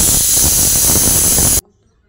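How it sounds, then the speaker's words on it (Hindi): Loud, steady steam hiss from a pressure cooker whistle releasing while khichdi cooks, sustained for about a second and a half before cutting off sharply into quiet. "अब ये 1 सीटी हो गया है, अब इसे हम खुलने के लिए रख देंगे।"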